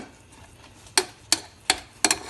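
Garri being turned into eba in a pot, with four sharp, crisp knocks and scrapes of the stirring utensil spaced about a third of a second apart over a soft background hiss.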